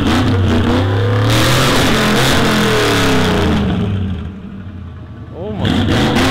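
The loud engine of a 1971 Ford F100 truck revs hard and close, dips into a brief lower rumble, then roars back up in another sharp rev.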